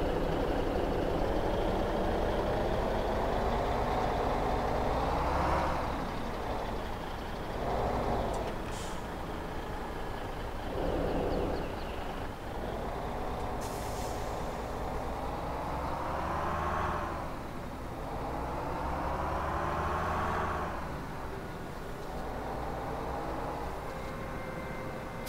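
A heavy truck in Farming Simulator 2017 rumbles steadily with its gearbox whining through shifts, engine pitch rising and falling in several long sweeps, with a sharp air-brake hiss partway through and a loud, continuous drone.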